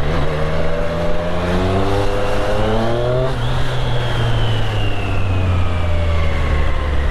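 A Triumph Street Triple R motorcycle pulls away and revs through the gears, its rising engine note climbing and dropping through several shifts, loud and close.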